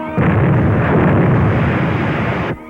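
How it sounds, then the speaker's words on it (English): A three-inch artillery shell explodes in a 1945 film serial: one loud, sustained roaring blast lasting about two seconds before cutting off abruptly, with no voices. "That's a 3-inch shell they're firing at us."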